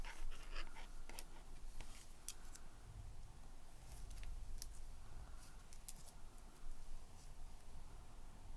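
A dog lying sprawled in her bed pants quietly and close by, a soft rapid wheezy rhythm running steadily throughout, with a few faint rustles and clicks around her.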